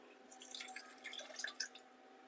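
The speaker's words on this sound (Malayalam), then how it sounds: "ഒരു ഒരു കപ്പ് വെള്ളവും കൂടെ ചേർത്ത് നമുക്കൊന്ന് അതിലൊഴിച്ചു കൊടുക്കാം വെള്ളം അതിലേക്ക് ഒഴിച്ചു കൊടുക്കാം" Water poured while cooking a jackfruit side dish, heard as faint, scattered dripping and splashing sounds over a quiet background.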